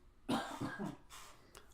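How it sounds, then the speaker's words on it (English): A single quiet cough, rough and breathy, followed by a fainter second one, heard close in an otherwise quiet room. "sorry, I keep yawning and coughing."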